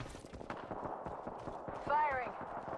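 A rapid burst of gunfire from Apex Legends rattles out as a string of quick, evenly spaced sharp cracks, with a short whining tone near the end and game noise underneath.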